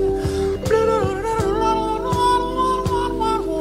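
A singer scat-singing in a brassy voice imitating a trumpet, sustained bright pitched notes with bends over a steady backing of bass and rhythmic drum hits, loud and continuous.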